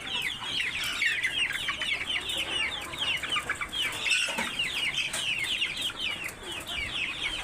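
Large giant-variety hill chickens on a farm cluck and chatter continuously, many birds close by making overlapping bright clucks at a moderate level with no speech.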